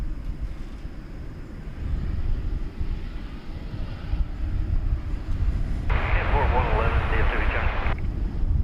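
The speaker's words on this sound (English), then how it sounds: "There goes an American 777 headed" An American Airlines Boeing 777 passes at Dallas Fort Worth airport, a broad jet engine roar that swells from low rumble to a loud whine in the middle, with wind buffeting and voices talking over it.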